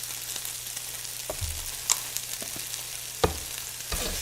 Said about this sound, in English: And we're going to give it a good stir.